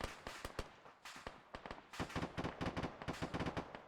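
Gunfire crackles during military platoon training at a range, with rounds hitting a bunker: rapid, irregular bursts of sharp shots in quick succession, fairly distant and steady throughout, no talking.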